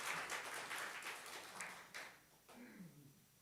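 A church congregation applauds during a Korean Sunday worship service. The quiet patter of clapping runs for a couple of seconds, then fades as a voice begins speaking.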